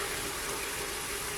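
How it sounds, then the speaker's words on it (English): Hot water runs steadily from a kitchen tap into a sink, a constant broadband rush with no breaks, close and moderately quiet, no talking. "I'm filling up the sink to help deep clean it with hot water"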